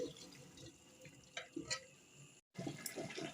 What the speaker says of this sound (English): I'm adding my meat stock to my soup